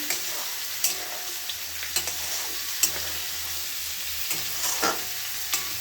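Pointed gourd and poppy seed curry (potol posto) boiling in a pan, with a steady simmering hiss broken by occasional clinks and stirring scrapes; no voices.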